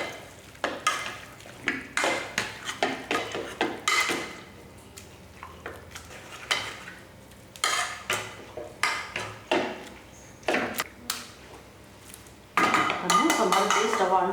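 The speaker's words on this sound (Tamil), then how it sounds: "இப்போ என்ன பண்ணுவோம், நல்லா இதை ஒரு கடை கடைஞ்சிடலாம்." Cooked sprouted green gram and ridge gourd being mashed in a pot, with repeated clanking and scraping strokes of a utensil against the metal in an irregular rhythm, close and fairly loud, ending in a sustained busier stretch.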